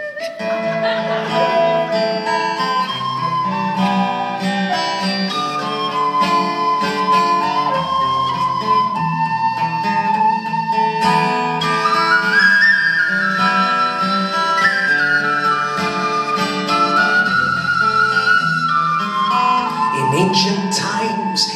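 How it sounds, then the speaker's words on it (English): A cheap penny whistle plays a wavering melody at a live comedy-music show, carrying on steadily and loudly throughout over a full accompaniment with no talking. "Let us deploy the shitty penny whistle."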